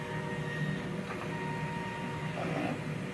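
DTF printer cycling through a print head cleaning, giving a steady mechanical hum with faint whirring and a brief higher motor whine near the end; no talk.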